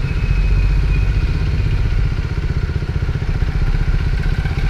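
A motorcycle pulls away slowly as a beginner eases out the clutch, its engine a steady, low, close rumble with an even pulse and no sharp revving.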